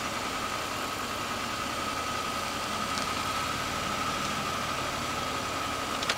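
A car engine idles steadily at a wildlife encounter with buffalo, a constant low hum with a faint whine, moderately close and unbroken.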